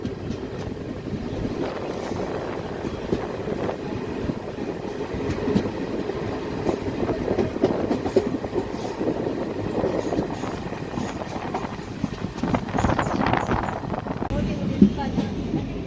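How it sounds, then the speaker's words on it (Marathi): Nanded–Adilabad Intercity Express rolling on rails through heavy rain near Mudkhed Junction, a steady continuous rumble and rattle of the carriages heard from on board, with faint voices in the background. "मुदखेड जंक्शनवर आपली गाडी जी आहे ती पोहोचत आहे"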